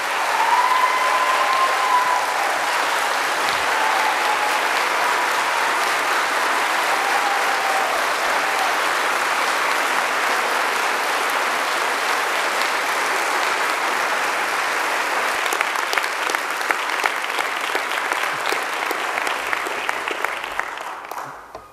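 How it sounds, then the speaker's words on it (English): An audience applauds the 33 school-level teachers of the year at a recognition ceremony, loud sustained clapping from a large crowd that holds steady for about twenty seconds before tapering off at the end. "Please give them a round of applause."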